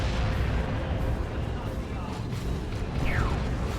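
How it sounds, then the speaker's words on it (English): A Predator tank fires its las cannon in Dawn of War 2 amid a 3v3 match, a steady rumbling roar of battle with booming blasts and a brief rising whine near the end. "Predator tank with that las cannon."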